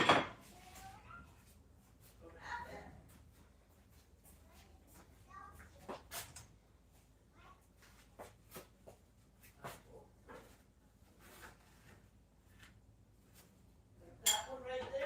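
Dishes and cutlery clinking as a dish is taken from a kitchen cupboard while cooking fried green tomatoes, quiet scattered clatter and a few sharper clinks, with a dog faintly present.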